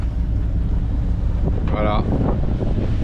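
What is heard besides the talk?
wind blowing on a sailing boat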